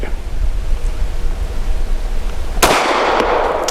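A single loud, sharp shot from a Tisas Zigana PX-9 G2 9mm pistol, likely firing a 124-grain round, cracks out near the end over steady wind-like background noise.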